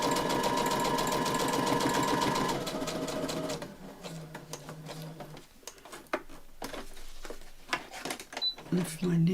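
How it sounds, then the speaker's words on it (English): A sewing machine runs a zigzag stitch around a fabric piece, a steady close mechanical whir for the first few seconds, then stopping and starting in shorter bursts, with speech heard around it. "I'm just going to zigzag it around"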